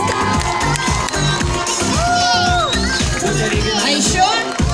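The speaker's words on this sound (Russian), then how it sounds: "Лагерь хлопать умеет." Children at a summer camp parody day cheer and shout loudly as a crowd, with overlapping excited voices and rhythmic clapping bursts throughout.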